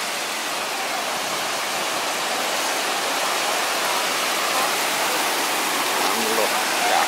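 Mae Klang Waterfall in Doi Inthanon pours in a continuous loud broadband rush of falling water, steady and close throughout with no break.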